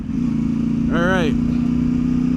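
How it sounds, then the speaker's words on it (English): A Yamaha Tenere 700 motorcycle fitted with an AliExpress exhaust pipe rumbles steadily while riding, a loud continuous engine drone with a brief voiced whoop over it. "We're out for a little cruise. Listening to this exhaust."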